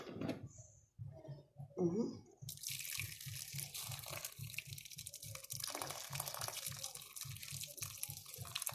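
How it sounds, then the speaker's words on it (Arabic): Water pours from a tap into a kitchen pot while a taro dish is being cooked, a faint splash and trickle that turns into a steady, gently pulsing flow after a short pause. "لازم نزود حبه ميه"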